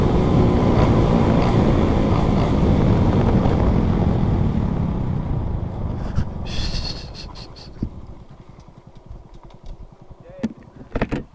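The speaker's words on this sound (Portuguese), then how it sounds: "Tá ventando que só" Strong wind roaring across a microphone while riding a motorcycle at speed, loud heavy buffeting that gradually eases as the bike slows, with voices faintly present.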